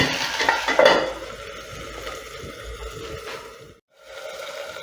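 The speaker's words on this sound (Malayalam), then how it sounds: "ഒഴിക്കുകയാണിത്" Liquid poured into a hot pan while making a dates pickle, giving a loud steady sizzle with some stirring scrapes that eases off, then briefly drops out and resumes more quietly.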